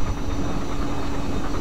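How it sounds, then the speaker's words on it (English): A Canadian National train in the video game Railworks 2 rumbles past close by, a steady low roar with faint rhythmic clatter, heard alone without voices. "there's our train."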